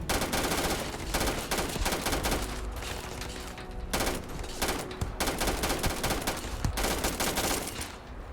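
Heavy automatic gunfire in the space game Starfield, continuous rapid bursts of shots from multiple weapons, loud and near, with short gaps between volleys.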